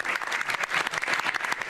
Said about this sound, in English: And they're clapping.